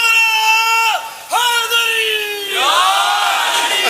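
A Muharram majlis congregation in Kharad chants a religious slogan in unison, loud and close, with one brief dip in the voices before the massed chanting resumes and swells.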